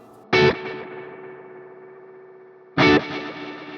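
Guitar chords struck twice through a Strymon Volante tape delay set to heavy, dark tape wear, each strum trailing into muffled repeating echoes that fade slowly, no voices.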